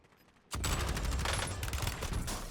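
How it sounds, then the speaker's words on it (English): Sustained gunfire from players shooting off a roof in Warzone erupts suddenly after a quiet moment and continues as a dense, loud, crackling barrage. "We're getting shot multiple times from the players on the roof."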